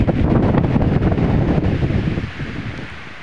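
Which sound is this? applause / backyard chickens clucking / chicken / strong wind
strong wind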